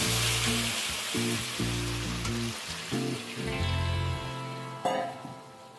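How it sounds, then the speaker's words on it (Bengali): Water is added to a frying pan of banana stem and prawns, giving a bright steady sizzle and hiss under background music, with a sharper burst near the end. "তিন মিনিট পরে এতে আমি জল দিয়ে দিচ্ছি।"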